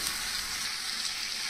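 Mixed vegetable jalfrezi coated in masala fries in a pan with a steady, even sizzle that holds unbroken throughout, with no talking over it.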